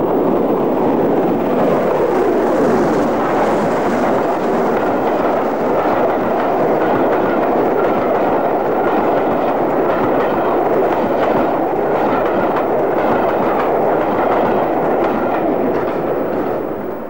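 A steam locomotive hauling an express train rumbles past loudly and continuously, a dense mechanical roar with rhythmic rattling and clatter that holds steady throughout.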